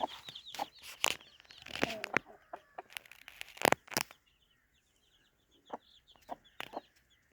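Several hens cluck in a farmyard, one of them a sitting brood hen among chicks and a rooster, with bursts of clucking and squawks up front, then a lull and a few scattered softer clucks.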